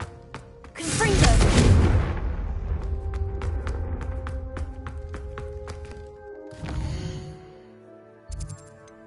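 A blasting spell detonates in a video game, a loud close explosive burst with a heavy low rumble that fades into a ringing tail, followed by a smaller second thump and scattered light clinks.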